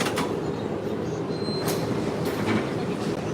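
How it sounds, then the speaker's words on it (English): A Walt Disney World monorail, train Coral, rolling along its beamway with a steady rumbling ride noise, brief clicks and faint squeals over it, close by and continuous. "Monorail Coral. This one actually has an epic motor on this."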